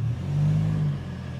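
Toyota Hilux GR Sport pickup with a 2.8-liter engine, in four-high, revs up briefly in a short low swell of engine tone that rises and then fades.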